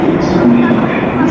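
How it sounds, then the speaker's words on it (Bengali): A fast train on a Japanese line between Shimbashi and Kamata rushes past, producing a loud, continuous roar with a sustained tonal whine over the rumble, and voices are faintly present beneath it. "ওই পাশে একটি অনেক দ্রুত বেগে স্পিডে ট্রেন যাচ্ছে"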